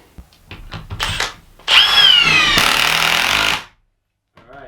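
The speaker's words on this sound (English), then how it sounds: "let's drive it in all the way on speed 3 here, and then see how it does the bolt removal" A Milwaukee M18 Fuel mid-torque impact wrench whirs briefly, then hammers a bolt home in a loud sustained burst of rapid impacts up close, ending abruptly in silence.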